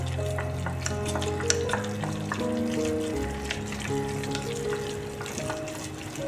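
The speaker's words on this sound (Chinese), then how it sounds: "搅拌均匀，像这样子就可以了。" Minced pork is stirred with sesame oil, producing a steady wet squelching and mixing sound up close that runs continuously over faint background tones.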